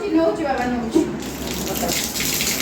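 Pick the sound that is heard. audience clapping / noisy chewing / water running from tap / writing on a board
water running from tap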